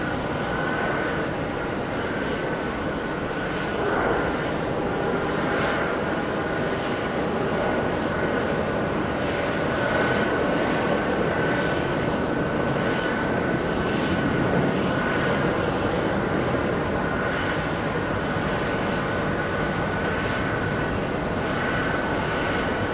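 The engines of a blue KLM Boeing 777 at JFK hum and rumble in a steady, moderately distant drone that rises a little in the middle and continues with no voices.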